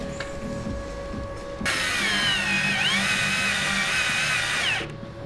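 A power tool drives a headlight bolt on a 2020 Jeep Grand Cherokee, with a loud whirring burst lasting about three seconds over a low background rumble, then cutting off.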